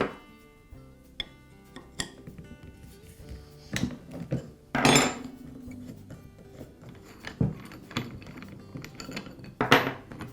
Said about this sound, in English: use the wrench to remove the lock nut